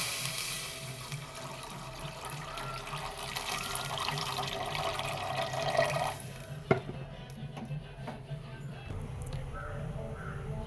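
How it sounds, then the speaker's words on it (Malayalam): Water poured into a pan of Maggi noodles cooking with masala and half-cooked vegetables; a continuous splashing pour for about six seconds gives way to quieter bubbling and a single sharp clink. "മാഗി വേവാൻ ആവശ്യമായ വെള്ളം ചേർത്ത് കൊടുക്കുക"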